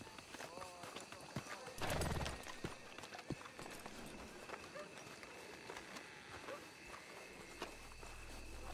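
Horse hooves in Red Dead Redemption 2 give a steady clip-clop on a trail while riding, with a loud burst of noise partway through and voices talking over the hoofbeats.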